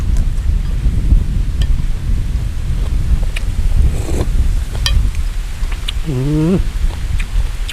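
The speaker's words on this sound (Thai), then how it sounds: "ฟังเสียงลมครับ" Wind blows outdoors in a rural setting, a loud, continuous rushing roar with buffeting against the microphone, while a voice speaks briefly and faint sharp clicks break through.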